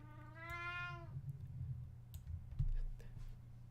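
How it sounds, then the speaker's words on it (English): A cat meows in a single long, clear call near the start, over a low background hum, followed by faint clicking and soft noises. "The kitty won't be happy though, because the kitty will meow."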